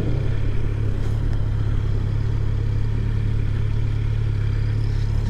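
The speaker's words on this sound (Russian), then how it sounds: "Какой гибкий двигатель. Четвертая скорость, ну правда, под горку" A 2019 Kawasaki Z900 motorcycle pulling in fourth gear downhill gives a loud, steady, close engine drone with a constant low hum and wind rush, no pauses.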